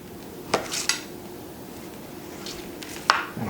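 A knife slices semi-frozen mahi-mahi into half-inch cubes for ceviche, giving a few sharp, close clicks and taps of the blade against a cutting board, spaced apart with quiet between them.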